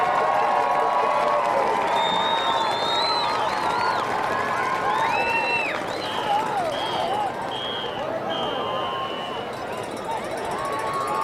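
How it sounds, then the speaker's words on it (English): A football stadium crowd at a high school halftime show cheers and claps for the senior band class, a broad sustained roar of cheering and applause with shouts and whistles rising above it. "A round of applause, please, for our senior band class of 2013"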